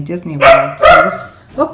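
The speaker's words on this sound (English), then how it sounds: "that's my dog" A dog barks a few times at close range, mixed in with a person talking over it.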